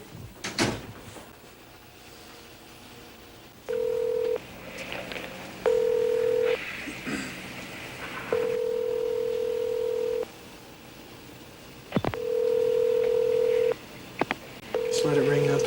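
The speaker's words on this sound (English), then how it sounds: "Just let it ring up, pick it up." Telephone ringing in repeated electronic tone bursts of uneven length, with clicks and handling knocks between rings and people talking in the room.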